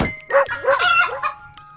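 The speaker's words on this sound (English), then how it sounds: "while Rover, barking loudly, chased the chickens back to their coop." A rooster-like squawking call rings out over a brief dog bark, close and loud, all within a couple of seconds.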